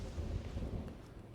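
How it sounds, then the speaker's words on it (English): Deep thunder from lightning in the video game Genshin Impact rolls low and faint, a dull rumble with a light wash of rain over it. "And there's lightning."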